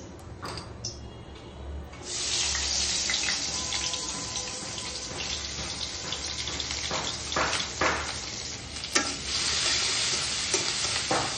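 Onion, green and dried chillies, cumin paste, coriander and turmeric frying in white oil in a home kitchen pan, a steady crackling sizzle with occasional scraping stirs, close and continuous after a quieter start.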